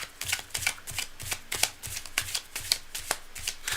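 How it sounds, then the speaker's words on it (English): A deck of tarot cards is shuffled by hand, giving a close series of quick riffling bursts and soft taps repeating in an uneven rhythm, fairly quiet and alone. "cards are nicely shuffled, but I'm going to do a few more to the last second"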